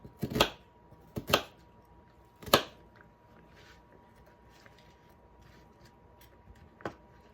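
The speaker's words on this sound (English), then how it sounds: "let's chop the onion real fast" One onion being chopped on a cutting board, a few sharp, close knife thuds in uneven clusters, then sparse quieter taps and a final chop, with no talk.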